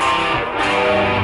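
A harsh electric guitar through cheap distortion sustains a muddy two-note third, loud and steady, with no voices.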